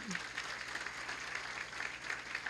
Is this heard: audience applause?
yes